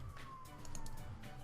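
A police siren wails faintly in the distance, its tone gliding slowly, muffled beneath low background rumble.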